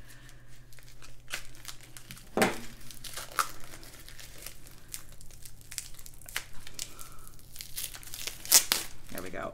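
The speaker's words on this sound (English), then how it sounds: "I just want to make sure I'm only cutting the top layer." Cutting into the top layer of a padded mail package holding a small-shop purchase, with scratchy tearing and crinkling of packaging material at close range, including a sharper rip near the middle and another near the end, over faint room noise.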